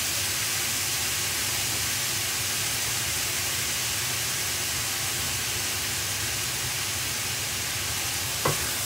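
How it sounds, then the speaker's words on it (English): Minced meat stir-frying in a pan for a Chinese noodle sauce gives a steady, loud, broadband sizzle that runs unbroken throughout, with a single faint knock just before the end. "So now with this, I've got to stir fry it for about, I think it's 5 minutes."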